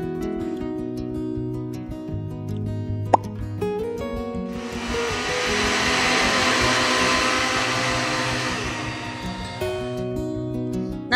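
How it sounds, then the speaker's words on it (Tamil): Mixer grinder jar whirring as it powders a cup of raw sugar, a loud steady motor roar of about six seconds set between quieter stretches with background music. "ஒரு மிக்சி ஜார்ல ஒரு கப் ரா சுகரை போட்டு நல்லா ஃபைன் பவுடரா வர வரைக்கும் அரைச்சு எடுத்துக்க போறோம்"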